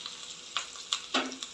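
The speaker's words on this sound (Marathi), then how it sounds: "अशी तुपातली जिऱ्याची फोडणी" Cumin seeds tempering in hot ghee with asafoetida, curry leaves and green chilli pieces, giving sharp crackling sizzle bursts that flare several times, the loudest near the end, over a faint steady hiss.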